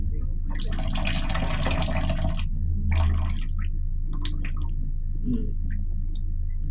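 Water dripping and trickling from a low-pressure tap, with brief bursts of running flow between quieter gaps and a steady low hum underneath; no one speaks.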